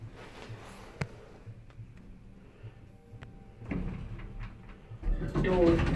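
Doors of a 2004 Stannah passenger lift in an H&M store in Birmingham slide with soft thuds and clicks, followed by a louder rumbling slide near the end. Light machine hum sits underneath.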